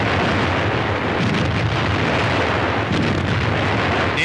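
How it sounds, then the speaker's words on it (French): Archival 1945 wartime footage from the battle for Colmar: artillery cannons fire amid a continuous, loud, dense roar of blasts and rumble with no pauses. "De jour comme de nuit, les canons mêlent leurs aboiements rauques au grondement des blindés."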